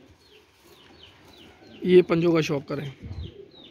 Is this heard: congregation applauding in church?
no